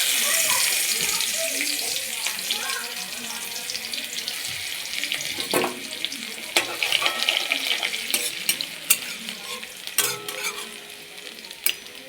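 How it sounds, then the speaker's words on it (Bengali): Crushed garlic frying in oil over tempered mustard seeds, a steady bright sizzle with scattered sharp pops and occasional stirring clicks, close and continuous throughout with no one talking. "এবার রসুনটা ফোড়ন হতে থাক"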